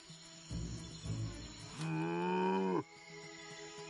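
A vampire cow in the LEGO Marvel Super Heroes 2 video game gives one long, loud, drawn-out moo with a falling pitch at the end, heard alone over a faint background hum after some brief low rustling thumps.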